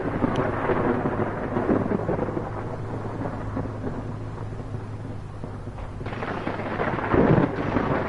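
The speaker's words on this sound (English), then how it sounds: "Hopefully avoid the storm." Thunderstorm in the video game Escape from Pertam: continuous heavy rain and wind roar with low rumbling thunder building throughout, loud and enveloping, with a heavier crack of thunder near the end.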